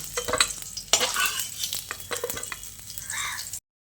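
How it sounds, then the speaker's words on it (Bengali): Ginger, cashews and tomato fry lightly in a pan, with a steady sizzle and repeated scraping stirs of a spatula, fairly close and without talk. "আদা কাজু আর টমেটোটাকে হালকা করে ভেজে একটা পাত্রের মধ্যে তুলে নিচ্ছি"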